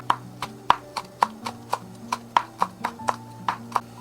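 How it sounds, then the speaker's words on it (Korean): A knife thinly slices green onion and Cheongyang chili pepper on a cutting board, about fifteen crisp, evenly timed chops at a brisk steady pace, with soft background music underneath. "청양고추도 반으로 갈라서 가늘게 채 썰어줍니다"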